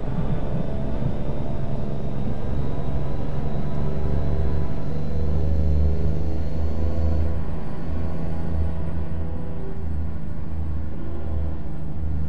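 A road train truck in American Truck Simulator rolls along with a heavy, continuous low rumble and steady engine drone, loud and unbroken, with no talking.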